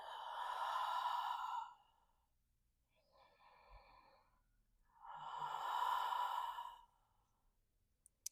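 Two long, deep audible breaths during a yoga practice, each a slow heavy exhale lasting over a second, separated by a quieter pause with faint breathing; close and clear, no talking.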